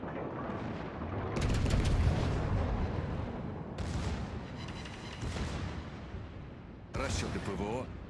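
Repeated naval secondary gunfire in the World of Warships game, a warship battle involving the Stalingrad, heard as broadband bursts and booms in several clusters over a rumbling background, with someone talking over the action.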